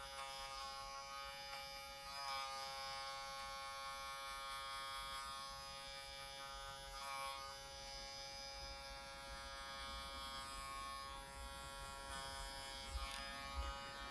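Electric hair clippers run steadily with the blade fully closed, polishing and softening the line on a high fade haircut, a close continuous buzz with slight pitch shifts as the clipper moves over the hair.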